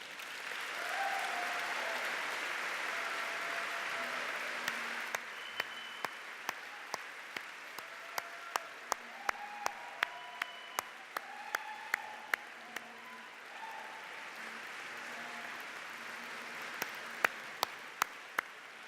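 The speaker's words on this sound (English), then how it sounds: "And I'd like to have everybody just give him a good round of applause now." Applause from the audience at the 2014 SEO awards dinner, a steady wash of many hands clapping for nearly twenty seconds, with louder individual claps standing out in the middle and toward the end.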